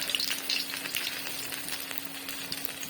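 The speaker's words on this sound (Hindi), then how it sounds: "अभी समोसे भी फ्राई करते हैं।" Close-up deep-frying of samosas in hot oil, a steady hiss of bubbling with sharp little pops and crackles, moderately quiet and continuous, no voices.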